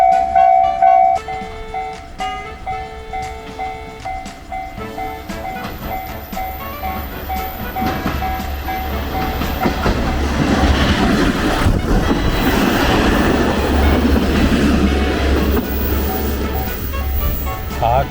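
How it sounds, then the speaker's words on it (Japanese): A train rumbles past at close range at Kasumi level crossing on the JR San'in Line, growing louder and steadier as it passes, with clanking wheels and a crossing bell's chime. "しかし列車が来るのです。"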